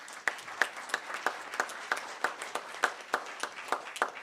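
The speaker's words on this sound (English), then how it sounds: "I think they deserve a very large round of applause for that." Audience applause at a school board meeting: steady, evenly spaced claps that sound thin and fairly quiet, like a modest room of people clapping together in a regular rhythm.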